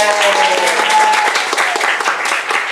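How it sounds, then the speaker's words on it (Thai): A cheering squad claps hard and shouts at a results announcement, a loud, close burst of dense applause with whoops and raised voices running throughout. "กองเชียร์จะแบบส่งเสียงดังมาก"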